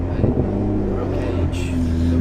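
Straight-piped BMW 135i coupe exhaust droning loud and close from inside the cabin during a country-road drive, a steady low rumble with slight rises in pitch.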